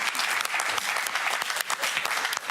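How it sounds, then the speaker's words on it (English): Studio audience on a quiz show applauding steadily, a dense, even wash of many hands clapping close and loud for the full length without pause or talk. "Round of applause for Neil."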